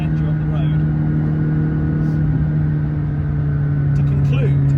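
A McLaren 600LT engine carries a strong, steady low drone as the car pulls up the road under light throttle, heard close and continuous for several seconds.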